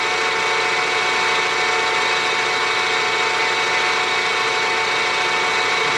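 A metal lathe making a steady cut on a chuck backing plate, producing a continuous loud broadband machining whir and hum with no break, with no voices.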